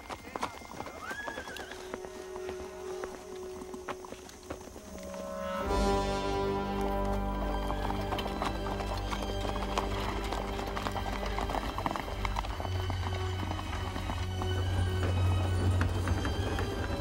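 Horses clip-clopping and whinnying in a dramatic outdoor chase scene, hoofbeats swelling into a galloping rush under loud orchestral music, with a neigh heard early before the score takes over.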